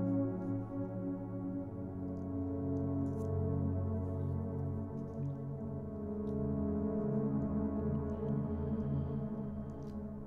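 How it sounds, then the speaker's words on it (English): Layered synthesizer parts from a song drone softly, with warm sustained tones that swell and shift slowly and steadily throughout, without any voices. "the last thing I haven't talked about is these synths here"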